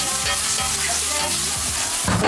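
Beef stir-fries with dried chilies, oyster sauce, scallion, ginger, pepper, brown sugar and dark soy in a hot wok, giving a loud, continuous sizzle with rhythmic scraping stirs close by.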